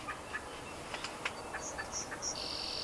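A wild turkey hen cuts and yelps in the woods, a string of faint, quick, sharp clucks and short notes at a distance, ending in a few higher yelps.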